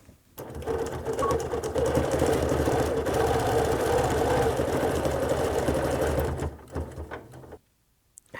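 A sewing machine stitches a quilt along the seam of a star design, a loud steady mechanical whir running for about seven seconds before stopping abruptly into quiet.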